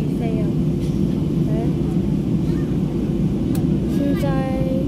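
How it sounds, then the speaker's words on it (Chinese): Inside an airliner waiting to take off at an international airport, a constant loud low engine rumble and cabin hum fill the cabin, with a person talking over it. "现在我们让我们飞机要起飞了。"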